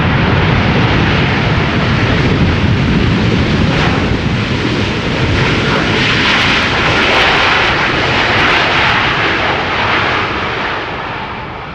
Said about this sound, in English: China Southern Cargo 777 freighter arriving from Shanghai.